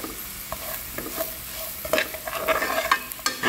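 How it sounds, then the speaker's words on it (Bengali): A spoon stirring a vegetable shikampuri kebab mixture with coriander leaves in a pan, scraping and clinking in a steady irregular rhythm over a low sizzle, close and fairly loud. "এবার যথারীতি এটাকে নাড়িয়ে নেব"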